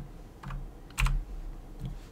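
Keys on a keyboard keypad are pressed in a few soft clicks, with a louder, sharper press near the middle, close by and quiet.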